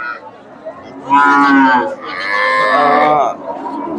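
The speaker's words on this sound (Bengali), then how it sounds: "হাটে সুন্দর সুন্দর গাভী বাচ্চা মোটামুটি বেশ গাভী বাচ্চার আমদানি হয়" Cows at a cattle market in Chandaikona, where local, Sahiwal and Friesian dairy cows and calves are sold, give two loud, close, drawn-out moos one after the other over a low background murmur.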